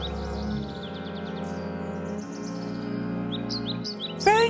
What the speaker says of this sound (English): "Chirp, chirp, chirp!" squeak the chicks.